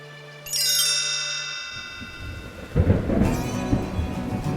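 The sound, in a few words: rain and thunderstorm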